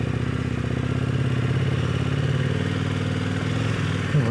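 A trail motorcycle engine drones steadily and close while riding on a sandy trail, a constant mid-pitched hum with faint rattling throughout and no talk.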